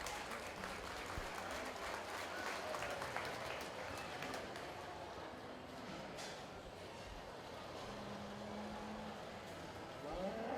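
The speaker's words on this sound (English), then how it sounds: "If you would, give all of our senior showmen a nice round of applause." Steady applause from a 4-H and FFA market steer show crowd for the senior showmen, dense clapping sustained throughout at moderate distance with faint background murmur.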